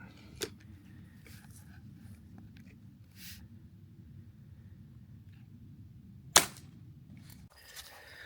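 A Ruger U Force .22 pellet gun fires two sharp, distinct shots several seconds apart, with faint background noise in between.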